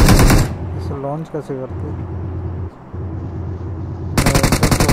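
Gunfire in the mobile shooter BGMI: long rapid bursts of automatic fire at the start and end, loud and close, with someone talking in between over low engine hum.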